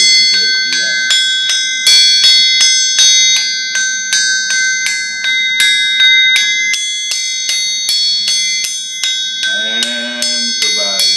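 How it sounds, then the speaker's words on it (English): A blacksmith's anvil is struck with a hammer to play a tune, and each blow leaves bright, sustained metallic ringing that overlaps the next in a steady melodic rhythm, loud and close. "You can play anything on an anvil that you can a piano, providing it is a good piano."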